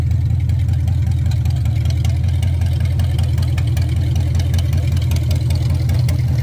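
A 1929 Ford Model A custom roadster hot rod runs loud and close with a steady, throbbing low rumble that holds throughout, with no clear speech over it.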